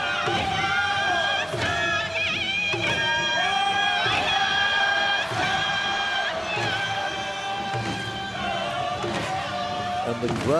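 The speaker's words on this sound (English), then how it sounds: "the crowd, I hope you can hear in the background, just responding to this" A stadium crowd at the Pacific Games opening ceremony in Port Moresby cheers and shouts continuously, loud and sustained, with rhythmic thumps and performers' voices layered throughout.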